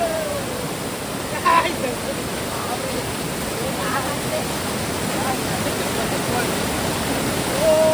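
Strong water flow roars steadily at the Bhel waterfall near Kudli, a broad, constant rush of falling water with faint human voices and brief splashes mixed into the noise.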